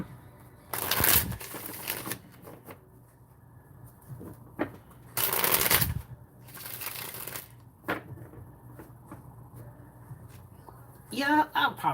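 Tarot cards being shuffled in several loud riffling bursts separated by quieter pauses, with soft handling noises between them and a brief voice near the end.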